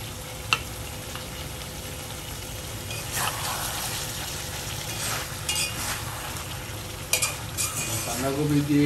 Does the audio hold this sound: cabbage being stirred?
yes